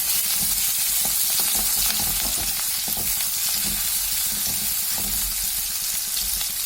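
Tomatoes frying in a pan for a sprouted horse gram bassaru, a steady dense sizzle with crackling pops running throughout, close and fairly loud with no voices.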